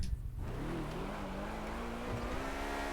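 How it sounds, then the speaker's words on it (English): Car in GTA 5 accelerating extremely fast with a modded acceleration multiplier, a steady engine drone with a rising tone, loud and continuous throughout, no talk. "I'm just accelerating 400 miles an hour without wheel spin"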